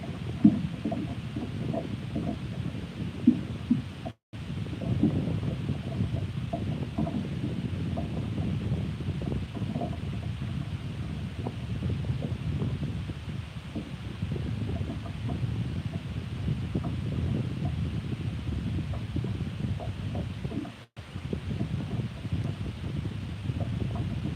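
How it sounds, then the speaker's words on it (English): Steady outdoor wind buffets the microphone while fishing from shore, a broad continuous rumble that holds for nearly the whole stretch with two brief dropouts. "Wind is really messing me up."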